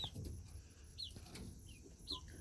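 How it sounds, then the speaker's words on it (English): Broody silver laced Cochin hens in a coop give a few short, soft clucks and chirps at close range, with faint rustling between them and no talking. "We have some broody hens over here in their little broody apartment"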